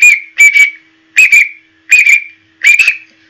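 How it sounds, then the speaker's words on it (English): A referee's whistle sounds in paired blasts: four close, loud pairs of short shrill toots, evenly spaced with brief pauses between pairs. "They need to stop time when the referee blows their whistle in paired blasts."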